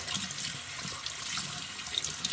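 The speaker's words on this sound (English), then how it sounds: "just rinse it under some warm water." Warm tap water runs steadily over jewelry being rinsed at a sink after ultrasonic cleaning, a soft continuous splashing hiss with no voices.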